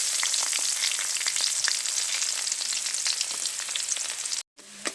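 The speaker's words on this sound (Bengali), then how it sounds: "পেঁয়াজটাকে হালকা নেড়ে চেড়ে একটু ভেজে নিয়েছি" Chopped onion fries in mustard oil with dried red chillies, five-spice and bay leaves, giving a dense, crackling sizzle close up with faint stirring taps and a brief dropout near the end.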